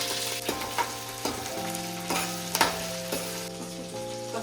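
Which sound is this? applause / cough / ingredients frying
ingredients frying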